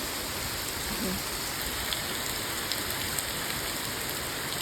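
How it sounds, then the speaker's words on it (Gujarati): Heavy monsoon rain pours down steadily in a dense, constant hiss, with a few sharper drips standing out, water flooding around a kitchen. "અને બહુ વરસાદ આવ્યો આજ તો."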